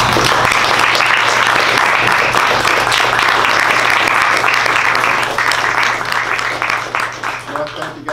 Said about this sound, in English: thank you guys for that applause